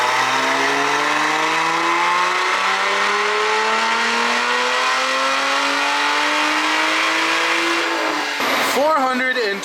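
A Lotus Emira with a JB4 tune on map 6, running 91 fuel, revs on a dyno in one loud, close, rising pull that climbs steadily for about eight seconds before snapping off into a short burble.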